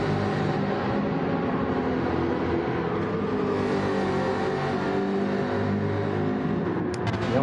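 Race car engines in the Gran Turismo video game, a Ferrari among them, drone and whine continuously at close range with no breaks and no talking.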